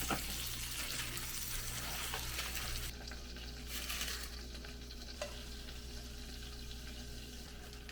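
Butter sizzles in a frying pan at home, a steady crackling hiss under low hum, with some stirring and a brief clink; no one speaks.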